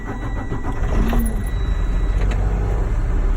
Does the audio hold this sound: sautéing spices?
no